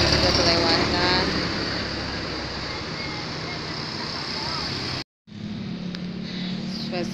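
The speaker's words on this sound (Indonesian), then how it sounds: "Mobil-mobil besar juga kelewatan." Large vehicles passing on a road at night outside a grocery shop, a loud continuous roar of traffic that eases slightly, briefly cuts out, then returns.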